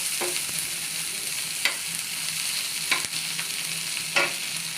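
Pumpkin sizzles steadily as it fries in a pan, with occasional spatula stirs and scrapes cutting through the continuous crackle, close and moderately loud with no voices.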